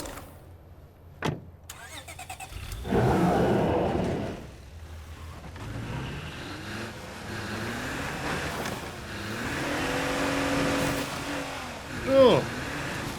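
A car in the survival video game State of Decay 2 starts with a sharp click and rumble, then revs and drives with a swelling engine drone, while a player talks intermittently over it.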